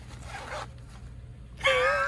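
A zipper on an inflatable snow globe pulled in two short tugs, a brief scratchy run followed by a pause and then a louder, sharper zip close by.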